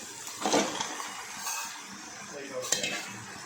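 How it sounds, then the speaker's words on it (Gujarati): Vegetable Maggi noodles are stirred in a pan with a spoon, giving soft scraping and clinking strokes over a light sizzle, close by and at moderate loudness, with a brief louder scrape near the start and another near the end. "હવે તેને હલાવી કાઢીશું આપણે, બધું મિક્સ કરી દઈશું વેજીટેબલ ને મેગીને"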